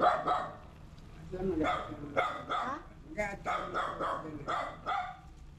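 A dog barks repeatedly in short, loud bursts nearby, mixed with voices talking over the barking.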